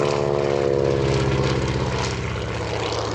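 A Waco seaplane flies low overhead with a loud, steady radial propeller drone, a rich harmonic engine roar that holds throughout with a slight pitch drift.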